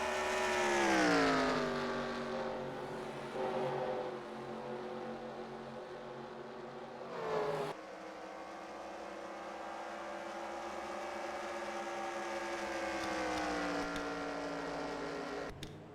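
Several stock cars roar through NASCAR Racing 2003 at Chicagoland Speedway, their engines droning loud and steady with rising and falling harmonic whine as they pass, a brief sharp swell near the middle, no voices over it.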